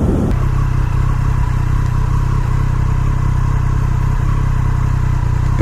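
A 2019 Triumph Street Triple R motorcycle with its stock exhaust runs at a steady, subdued drone, a low engine hum holding evenly close by with no talk over it.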